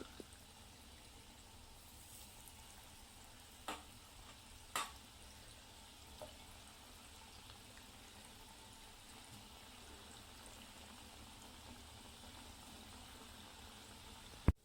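Gulab jamun frying one by one in hot oil over a low gas flame: a faint, steady, soft sizzle runs throughout, broken by a few quiet clicks and taps of a utensil.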